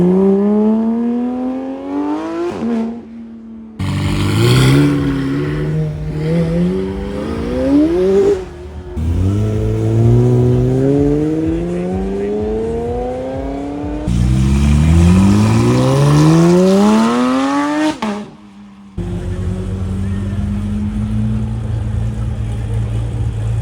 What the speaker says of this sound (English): A lot of supercars pulling out of protective film solutions.